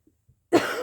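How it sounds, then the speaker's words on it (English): A single close, harsh cough bursts out after a moment of near silence, preceded by a couple of faint soft sounds. "Oh, coughing."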